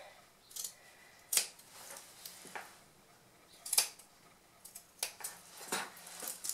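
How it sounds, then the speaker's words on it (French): Several crisp scissor snips cut through fabric corners, spaced irregularly, close and fairly quiet against a hushed background. "je vais découper tous ces angles. Donc, hop, je prends mes ciseaux."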